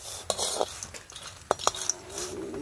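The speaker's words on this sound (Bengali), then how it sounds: "দেখছেন কয়টা বালি দিয়ে ভাজলাম" Peanuts are dry-roasted in sand in a village kitchen and stirred with a utensil, giving a few sharp scraping clicks and rustling gritty stirs at close range, with no voices.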